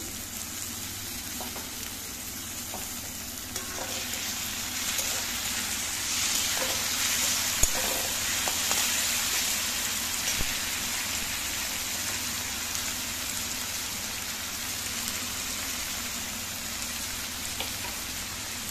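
Finely chopped tomato fries in a pan with a steady, moderately loud sizzle and occasional stirring scrapes, continuous throughout with no talk.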